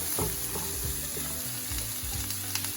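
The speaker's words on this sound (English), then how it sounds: "We'll check on our bacon. It's cooking up nicely. It's starting to render fast." Bacon strips sizzling and rendering in a hot pan while carbonara is prepared, with a steady crackling fry and occasional utensil clinks, close and alone without talk.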